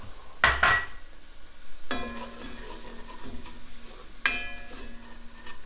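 A spoon stirs flour into melted butter in a pot to make a roux for chowder, giving soft scraping strokes over a light sizzle, with a sharp utensil clatter near the start and a couple of later knocks.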